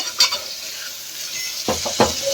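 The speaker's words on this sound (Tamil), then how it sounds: "லைட்டாக மஞ்சள் தூள் இதை போட்டு இப்படி பெரட்டி விட்டுட்டு நல்லா மிக்ஸ் பண்ணி விட்டு" Country chicken tossed with turmeric powder in a pan hisses quietly before a few loud, close scrapes and clatters of the stirring spoon near the end.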